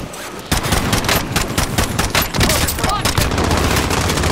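Loud, sustained automatic gunfire from the video game Warzone fills the clip in rapid bursts, with close, crackling shots layered over each other and barely any pause.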